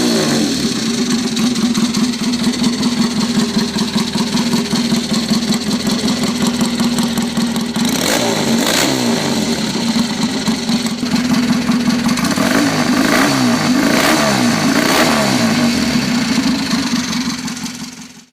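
A vintage British motorcycle engine idles close by with a throbbing, even beat, then is blipped with several throttle revs rising and falling before cutting out at the end; no talking.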